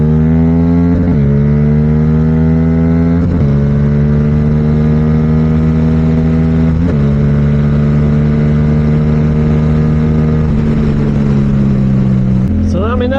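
A motorcycle engine with a leaking fork seal revs loud and close during wheelie practice. It holds a steady, buzzing drone that dips and rises several times as the throttle changes.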